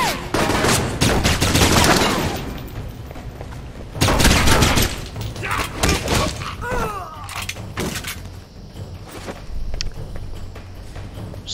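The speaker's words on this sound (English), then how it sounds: "Somebody out here has a cannon." Gunfire and cannon blasts ring out in the action game Alpha Protocol, loud bursts of shots and heavy booms in clusters, with scattered cracks, footsteps and quieter gaps between volleys.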